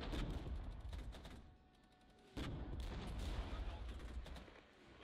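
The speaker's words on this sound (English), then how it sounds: "Some artillery coming in" Artillery fire in the Regiments war game: a rumbling barrage of distant booms and crackling shots with a heavier blast midway, rolling on under low battlefield noise and some talking.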